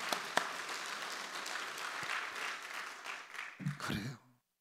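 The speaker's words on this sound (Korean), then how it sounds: "박수." A church congregation claps together at a Sunday service, a full burst of applause that swells and then fades over about four seconds. A voice speaks briefly as it dies away.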